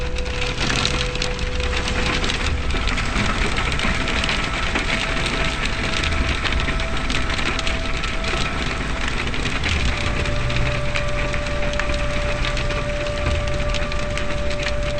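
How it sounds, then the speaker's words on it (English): Hail pelts a car roof and windows during a heavy storm, a dense, loud, continuous clatter of countless small impacts heard from inside the vehicle, steady for the whole stretch. "A lot of hail falling."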